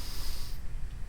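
A sharp, forceful intake of breath through the nose during a breathing warm-up exercise, a single loud hissing snort that cuts off abruptly, heard close and alone without talk.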